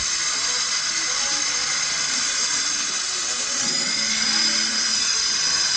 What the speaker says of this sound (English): Antonio is going to bleed it with this vacuum cleaner